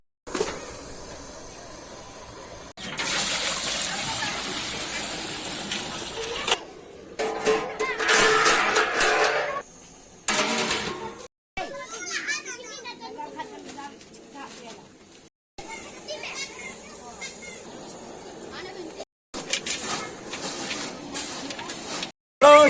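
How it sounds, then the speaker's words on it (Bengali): Rice being washed in water while cooking at home, with hissing, splashing runs of water that start and stop in several bursts, and people talking throughout. "চালটা ধুয়ে নেবো।"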